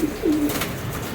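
A pigeon coos close by in a caged loft of racer pigeons, giving a low, throaty, rolling call that swells and fades within about a second, with no talking.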